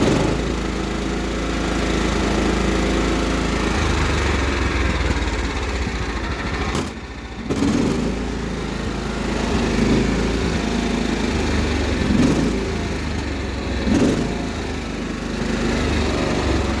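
A Cub Cadet 1330 lawn tractor engine runs loud and close with a steady buzzing drone, briefly dropping and recovering as it surges, then holding an uneven roar.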